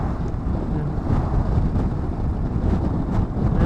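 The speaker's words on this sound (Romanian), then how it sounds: "Bate vântul aici." Wind roaring over the microphone during a Honda Transalp 650 motorcycle ride across a bridge in Norway, a dense continuous low rumble with buffeting gusts, loud and steady, no talk.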